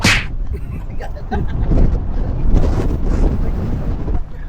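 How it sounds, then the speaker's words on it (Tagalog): Strong wind buffeting a microphone outdoors in Lisbon, heavy rumbling gusts that rise and fall, loud and close, with a sharp burst at the start. "Ang hangin ha."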